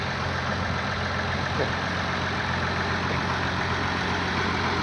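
An Oliver tractor pulling a White disc through a field by a road, its engine running at a steady, even drone with low rumbling tones throughout, close and constant.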